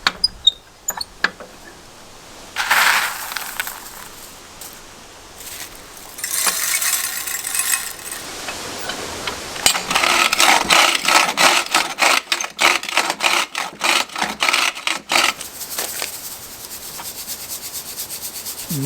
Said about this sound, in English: So we're going to do one more pass as tight as we can get in the jaw crusher